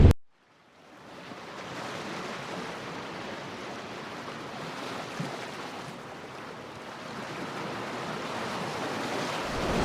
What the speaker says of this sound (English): end this day in some hot springs right at the sea